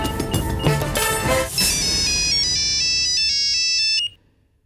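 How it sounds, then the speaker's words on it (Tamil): A telephone ringtone plays loud and close during a phone call in a Tamil television serial, a bright repeating electronic melody that holds steady for several seconds before cutting off abruptly. "ஒரு நிமிஷம் ஃபோன் பண்றேன்."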